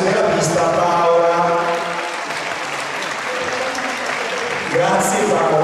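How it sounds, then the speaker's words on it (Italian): Loud, sustained crowd applause at a 2013 artistic gymnastics recital in Ascoli Piceno, honouring the physiotherapist, with music playing underneath and the clapping swelling again near the end. "Quindi un applauso alla fisioterapista Paola"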